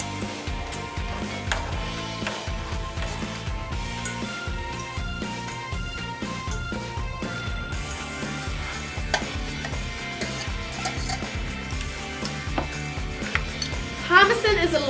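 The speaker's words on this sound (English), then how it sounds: "Now we're going to mix all the ingredients together." A spoon stirs and mixes salad ingredients with a yogurt, curry powder and lemon juice dressing in a bowl, making repeated scraping and clinking strokes. Talk and background noise from a kids' school cooking competition run underneath.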